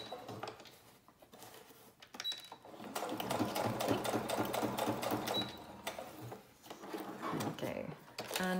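A sewing machine runs in steady, rapid bursts while stitching paper clusters for a junk journal, close and fairly loud, with brief pauses between runs.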